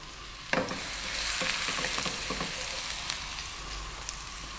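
Garlic and ginger sizzle and crackle in hot sesame oil in a wok over high heat, a steady loud fry with a sharp burst at the start and scattered pops throughout, no voices.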